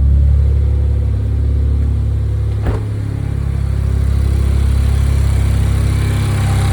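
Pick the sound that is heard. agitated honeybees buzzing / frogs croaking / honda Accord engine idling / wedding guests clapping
honda Accord engine idling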